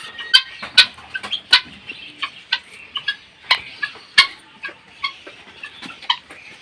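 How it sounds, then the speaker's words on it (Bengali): Turkeys at a farm house gobble and cluck in a rapid series of sharp, close calls, with chicken-like clucks mixed in and no talking. "এই দেখো, ও টার্কি, টার্কি বলি এগুলিকে"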